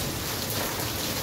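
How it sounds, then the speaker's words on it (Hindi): Heavy monsoon rain pours down at night in Lahore, a dense, steady roar of drops on surfaces that stays loud and even throughout the short stretch, with no voices. "लाहौर में मूसलाधार बारिश बड़े जोरों शोर से हो रही है"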